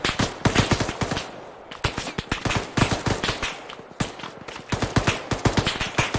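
Dense bursts of automatic gunfire from the Arma 3 video game, rapid volleys of sharp shots arriving in clusters with brief gaps, loud and close throughout.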